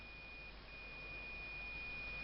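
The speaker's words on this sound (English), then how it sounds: "As you can see through the multimeter and with that buzzer," A multimeter's continuity buzzer sounds a continuous, steady electronic beep tone alone without pause, fairly faint and unchanging throughout.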